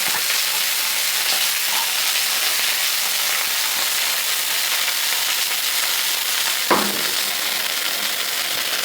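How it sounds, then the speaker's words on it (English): Cactus pieces for broccoli cactus soup sizzling in hot oil, a steady loud frying hiss held throughout with a brief stir or clink near the end, no voices. "once you put it in, you hear that psh kind of thing because the oil and the water is reacting"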